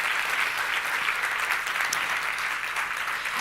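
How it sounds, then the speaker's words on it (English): Dense, sustained audience applause fills a large forum hall on displacement, a loud continuous roar of many hands clapping with no pauses. "Can we please have a round of applause here?"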